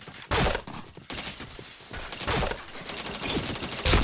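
Gunfire in the shooter game Point Blank, bursts of rapid shots and loud blasts in clusters separated by brief lulls.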